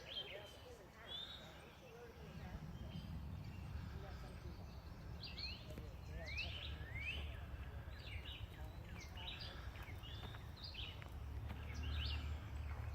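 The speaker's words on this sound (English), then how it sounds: "These birds are ridiculous." Birds chirping among the trees of an arboretum, scattered bright calls and short tweets repeating throughout over a low, steady outdoor rumble, fairly faint and distant.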